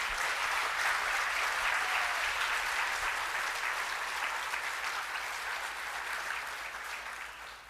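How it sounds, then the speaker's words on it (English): A large audience applauds at a Korean/Cold War government briefing session, a dense sustained wash of clapping that stays steady and loud, easing slightly toward the end. "If I can get a round of applause for our briefers."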